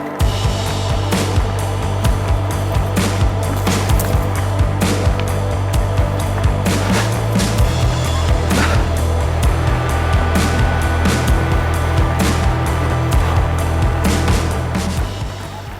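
Mountain bike rolling over extended rock slab sections in the bush, a loud, continuous rumble of tyres and frame rattle with frequent sharp knocks and clatters from the rough rock, steady throughout.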